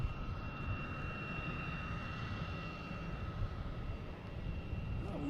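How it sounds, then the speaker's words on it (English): A Delta Airbus A321 airliner arriving at Boston Logan, a steady distant jet engine roar with a faint whine, heard continuously and alone at moderate level. "next coming in is Delta from Atlanta, an A321"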